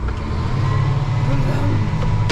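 The diesel engine of a JCB Teleskid 3TS-8T compact loader runs loud and close in a steady, heavy drone, with a slight rise in pitch as it revs up and faint voices underneath.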